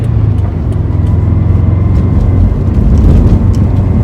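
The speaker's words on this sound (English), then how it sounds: "there is a lot of NVH coming out of the car. You can actually hear the gear whine and all that" Loud, steady cabin drone inside a 2002+ Subaru WRX/STI fitted with a Beatrush forged pitch stop mount, engine and drivetrain vibration humming constantly with a thin gear whine over it while driving.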